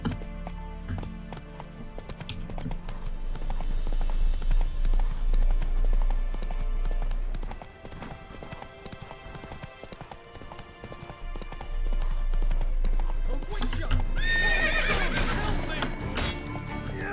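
Geralt's horse Roach in The Witcher 3: Wild Hunt clip-clops along at an even pace over game music and ambience, then lets out a loud whinny near the end.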